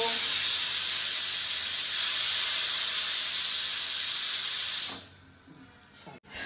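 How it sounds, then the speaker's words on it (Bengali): Potatoes frying in a pan beside radish greens boiling on a home kitchen stove give off a loud, even sizzling hiss for about five seconds, then it drops abruptly to a quieter background. "এই যে এখানে আলু ভাজা হচ্ছে, এখানে মূলোর শাক সেদ্ধ করছি।"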